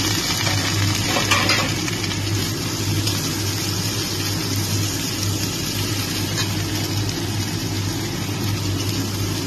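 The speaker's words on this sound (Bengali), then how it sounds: "এবার আমি কেটে রাখা পেঁয়াজ, ক্যাপসিকাম আর কাঁচা লঙ্কা কুচি আমি দিয়ে দিচ্ছি।" Chopped onion, capsicum and green chilli fry in a pan for chilli chicken, giving a steady, close sizzle with stirring and a few light scrapes of a utensil against the pan throughout.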